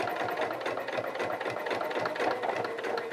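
Sewing machine steadily stitching around fabric seams on a child's coverall, a continuous rapid mechanical whirring with fine rhythmic needle clatter, close and unbroken with no talk.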